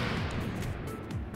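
A self-destructing ship explodes in the space game Space Engineers, a loud, dense rumbling blast that fills the whole short moment with sustained low roar and crackle.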